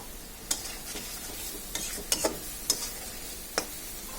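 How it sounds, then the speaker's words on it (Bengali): Prawns fry with spice paste in a pan, a low steady sizzle punctuated by several distinct scraping strokes and taps of a spatula against metal. "এখন মশলাটাকে ভালোভাবে চিংড়ি মাছের সাথে আমরা কষিয়ে নেব।"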